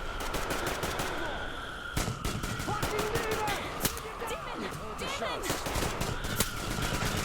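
Rapid bursts of gunfire from the Metro Exodus video game crackle continuously through a dense, busy mix of combat noise, with a voice talking over the shooting.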